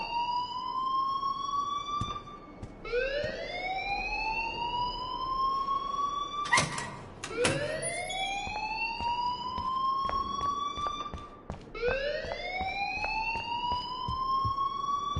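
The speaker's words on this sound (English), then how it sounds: "please turn off that alarm since that's your job" An alarm rings in the video game Life is Strange: a loud electronic siren sweeping upward in pitch over and over in a steady repeating cycle, heard alone with no talk.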